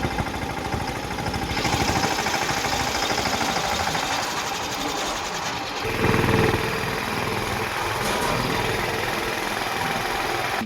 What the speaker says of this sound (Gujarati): ટ્રેક્ટરનો જો વધારે અવાજ આવશે